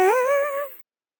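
A single robotic talk-box vocal chop taken from a sample and played dry sings one wavering, buzzy sustained note for under a second, then cuts off abruptly into silence.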